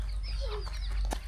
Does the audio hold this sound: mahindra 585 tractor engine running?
no